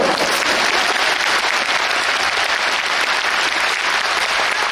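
A concert audience in an Olympic Hall applauds for a singer, a dense, steady roar of many hands clapping that holds evenly loud throughout with no talk on top.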